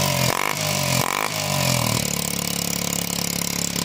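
A trail motorcycle engine is revved hard close up, rising in two quick blips and then settling into a loud, steady roar with little else audible.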